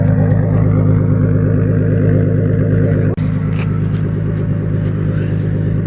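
A turbocharged Lexus IS300 with a 3-inch turbo-back exhaust idles close by, a steady deep rumble with a fine pulsing burble that holds even for several seconds, with a brief click partway through.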